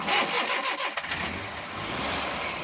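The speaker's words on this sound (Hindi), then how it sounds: "तो ये गाड़ी बहरहाल हमने अभी स्टार्ट कर दी है।" A Suzuki Bolan's engine cranks briefly and catches, then settles into a steady, close mid-pitched idle with no voices.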